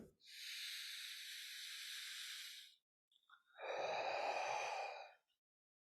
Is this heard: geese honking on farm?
no